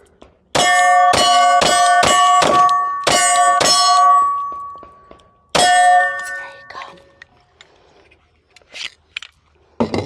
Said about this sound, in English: Let's try to drop this slide since the magazine is not full.